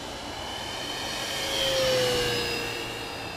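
FMS 1450mm P-51 Mustang RC plane flying on an evening outing, its electric motor whining steadily and swelling as it passes nearer overhead, then easing off, with no talk.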